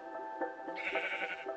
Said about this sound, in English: Sheep, you got right in my way.